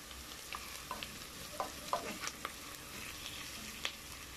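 Onions fry in oil until golden brown for pork belly adobo, producing a quiet, steady sizzle with scattered soft crackles and the odd stirring tap, with no one speaking.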